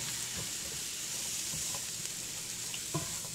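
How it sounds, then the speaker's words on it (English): Mushrooms and onions sizzling and frying in a pan, a steady hiss close by with occasional soft stirring clicks. "So I'm going to go ahead and just cook down my mushrooms and onions"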